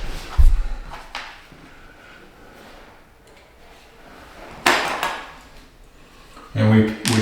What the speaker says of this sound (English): So now I'm rehanging this lower door.